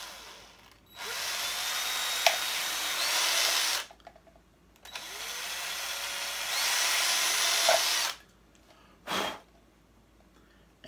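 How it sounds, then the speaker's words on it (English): A drill bores slowly through plastic for a Terminator arm prop in three separate runs, a steady high whine rising and cutting off, with brief quiet pauses between. "We got the holes drilled for that."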